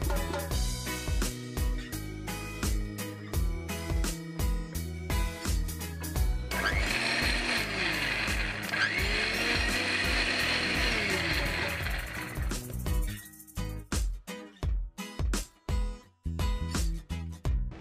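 A kitchen mixer grinder whirs steadily for about six seconds while grinding cooled mushroom and curry leaf roast ingredients into a paste on a cooking show set, with clattering and background music before and after.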